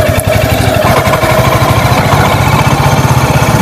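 A Royal Enfield Hunter 350 motorcycle runs as a ride begins, its single-cylinder engine thumping loudly in a fast, even pulse close by, with no voices.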